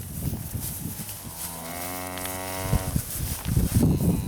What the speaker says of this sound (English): Cattle are real docile.